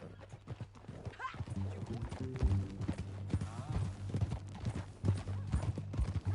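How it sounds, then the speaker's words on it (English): Horse hooves clip-clop in a steady rhythm during a ride in the video game Red Dead Redemption 2, close and clear, with some soft game ambience and faint vocal sounds. "That a new horse?"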